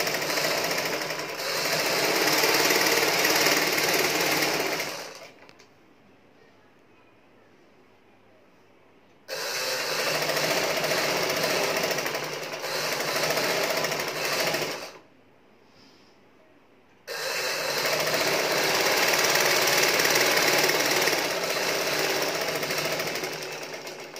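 Sewing machine stitching a kurti in three bursts, a fast steady mechanical rattle running about five seconds, pausing, resuming, pausing briefly again, then a long final run, close and loud with no talk.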